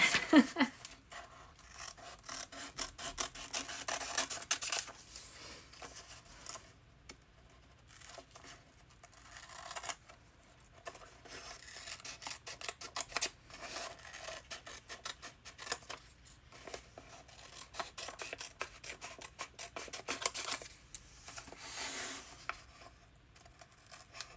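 Scissors trim paper during a steampunk-themed creative journal setup, giving soft, repeated snipping and rustling strokes at close range, with quiet paper handling between cuts and no talk.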